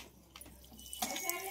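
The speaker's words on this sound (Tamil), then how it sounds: "தண்ணி ஊத்துற சவுண்ட் கேக்குது" Water pours and splashes into a household washing machine drum, a soft rushing wash that swells louder near the end, with no talk over it.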